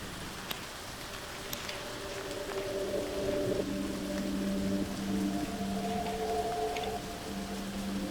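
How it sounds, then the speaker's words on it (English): Steady rain and hail falling outdoors during a spring black bear hunt, a continuous hiss of drops with faint scattered ticks, while a low hum runs beneath. "Then it started to hail, and then it started to snow."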